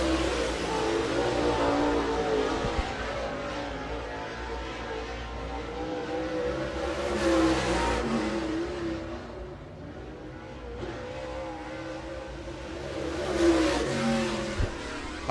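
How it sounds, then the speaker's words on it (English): MARS late model race car running on the track at Spoon River Speedway, a loud continuous engine roar that swells and fades as the car passes, with no talk. "Also on track, Zach Taylor."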